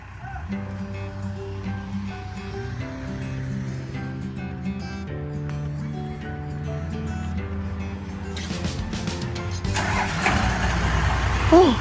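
A used ten-wheel truck's diesel engine starts after a long steady crank-like drone, then catches with a louder rough roar near the end, heard close with no talk.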